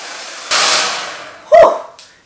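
A new Pattern blow dryer with a diffuser drying hair, heard as a brief, loud close whoosh of blown air that tapers off, followed by a second sharp gust and a fading rush.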